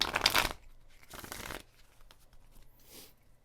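Playing cards riffled together in quick bursts, a loud shuffle followed by a second one and a softer third, with quiet pauses between.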